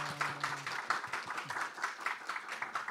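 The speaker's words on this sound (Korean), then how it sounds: "우리 우리와 같은 축복의 박수 보내주시면 감사하겠습니다" A church congregation gives a blessing round of applause during an officer-training session, with uneven, moderately loud clapping from a small group and a faint voice underneath at the start.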